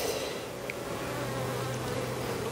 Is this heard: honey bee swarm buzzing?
yes